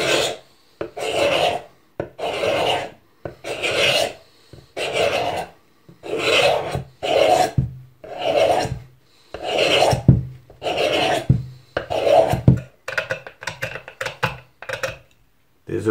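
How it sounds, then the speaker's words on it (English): Rhythmic rasping strokes as varnish is scraped off a wooden axe handle on a Woods Chogan T-Hawk, about a dozen close, steady scrapes with brief pauses between them, then quicker short strokes toward the end. "So just scrape away."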